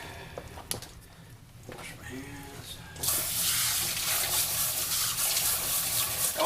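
Hands are rinsed under a running kitchen tap after cooking spaghetti; quieter kitchen sounds give way midway to a loud, steady gush of water that continues to the end.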